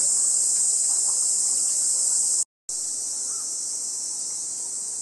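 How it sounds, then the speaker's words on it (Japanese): Cicadas shrill in a continuous high, even drone around a mountain shrine grove in Kano, Shunan, loud and unbroken apart from one very brief gap. "あ、セミか。"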